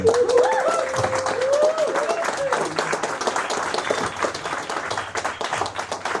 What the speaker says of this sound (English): let's take a moment actually and just give a nice round of applause for Rayanne and this wonderful club